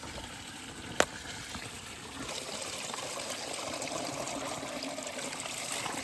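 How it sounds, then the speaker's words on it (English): Water trickling in a small stream on a national park hike, a steady close babbling flow with a single sharp knock near the start and no talking. "I hear water."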